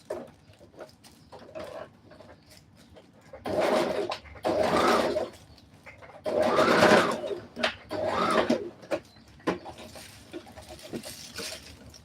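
A sewing machine stitches a folded seam on a bubu dress with boning, running in several short bursts of fast mechanical whirring close by, separated by brief pauses.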